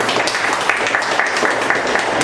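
A congregation at a church service applauds, a dense continuous patter of many hands clapping at steady loudness, close and filling the room.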